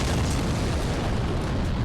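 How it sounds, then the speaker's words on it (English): A loud, clipped explosion sound effect from the video game Dark Souls Remastered roars as a continuous distorted boom throughout. "Are you ready for some fun explosion sounds?"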